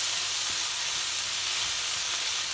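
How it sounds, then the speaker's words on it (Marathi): Onion frying in a pan for paneer bhurji, a steady, dense sizzle heard close up and alone, without breaks. "आपला आता कांदा फ्राय झालाय।"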